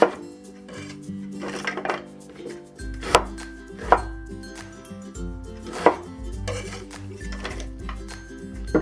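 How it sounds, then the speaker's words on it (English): A knife chops an onion into big chunks on a board, sharp close thuds spaced a second or so apart over a quiet background of music. "Same with the onion. We'll cut it into big chunks."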